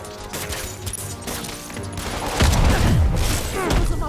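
In a Spider-Man video game fight, a dense burst of gunfire crackles behind game sounds before a grenade explosion rumbles in, loud and close, with bursts continuing toward the end.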